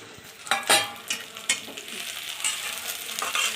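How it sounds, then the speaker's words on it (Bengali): Flat beans fry in a pan with a quiet, steady sizzle, punctuated by several crisp spatula scrapes and taps near the start. "এটাকে ভালো করে আমি ভেজে নেব, লাল লাল করে ভেজে নেব"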